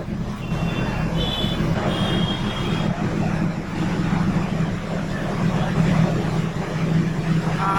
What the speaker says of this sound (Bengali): এই যে এটা হচ্ছে কুষ্টিয়া রেল স্টেশন, দেখেন।